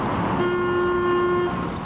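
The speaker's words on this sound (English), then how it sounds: "It can be as simple as a honk from a passing car." A car horn gives a single sustained honk of about a second from a passing car on a busy street, over steady traffic noise.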